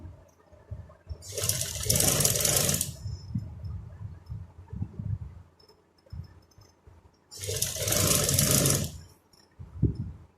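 A sewing machine stitching a bow strip for a frock runs in two loud bursts of fast whirring, each about two seconds, separated by a quiet pause with faint handling noises.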